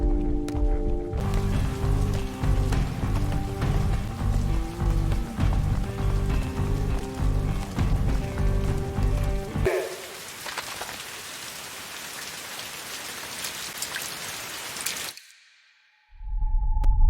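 Rain falls during a 100-metre sprint race: dense, steady patter on hard surfaces with a thudding rhythmic layer beneath, then a thinner hiss of rain before the sound briefly cuts out and returns.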